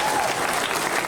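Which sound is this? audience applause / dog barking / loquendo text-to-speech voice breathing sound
audience applause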